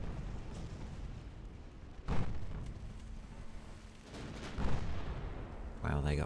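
Torpedoes strike a light cruiser in a naval warfare video game: a few heavy, muffled booms land at intervals over a steady low rumble of battle noise.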